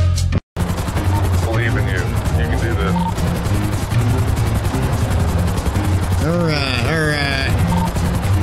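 Helicopter rotor and engine noise from a GTA roleplay video game, a steady dense drone running throughout, overlaid with bursts of gunfire-like crackle and game effects, with voices talking over it.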